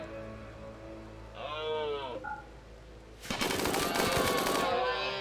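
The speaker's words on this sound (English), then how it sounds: "Turn on the turrets for automatic defenses because I'm napping." Automatic defense turrets in RimWorld burst into rapid gunfire after a quiet stretch, which includes a brief animal-like call. The shooting comes as a dense, loud, sustained rattle lasting about two seconds.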